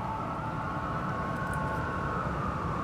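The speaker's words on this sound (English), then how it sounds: "Random sirens." A distant siren drones steadily over a low background rumble of traffic, faint and continuous with no talking.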